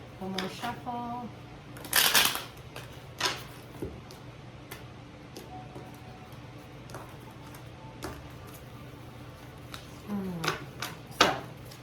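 A tarot deck is shuffled by hand in several quick riffling bursts with soft card taps between them, close and fairly quiet.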